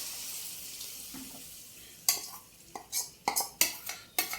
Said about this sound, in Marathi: चांगलं त्याला आपण ढवळून घेऊया